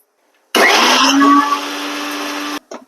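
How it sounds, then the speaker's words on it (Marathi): A mixer grinder whirs loudly for about two seconds, grinding soaked chana dal into paste, its motor pitch shifting as the load changes, then it stops with a short rattle afterward. "आणि मिक्सर मध्ये बारीक पेस्ट यायची"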